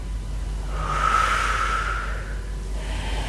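A slow, deep breath drawn during a Pilates stretch, a soft airy rush that swells and fades within a few seconds, close to the ear.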